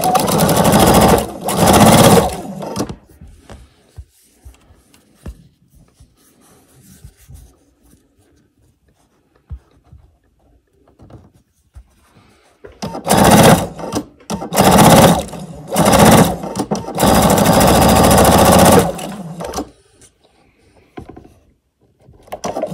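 A sewing machine stitches solid fabric scraps for crumb quilt blocks in two bursts of fast, close, buzzing whirring, separated by a long quiet pause with small handling clicks.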